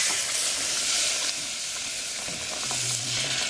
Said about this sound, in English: going to pour the sugar into this pan, and my mother's going to whisk it